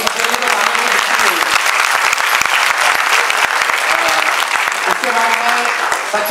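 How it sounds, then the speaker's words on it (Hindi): An audience at an award ceremony claps loudly for children after their performance, a thick sustained round of applause with some crowd noise, and voices speaking over parts of it. "बच्चों ने जो इतना जबरदस्त कार्यक्रम किया उसके लिए जोरदार तालियां, बच्चों के लिए तालियां"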